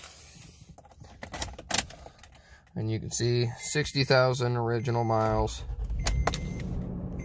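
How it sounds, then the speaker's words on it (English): A one-owner 2014 Toyota Tacoma Limited double cab truck with 60,000 miles cranks and settles into a steady low idle rumble, heard near the end after someone speaks. "Start the truck up here."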